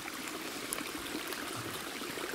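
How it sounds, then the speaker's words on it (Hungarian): Steady rush and gurgle of a small stream flowing in the Mátra hills, close and continuous with a bright, hissy texture and no speech. "Csak mutatom, hogy folyik ám a víz rendesen."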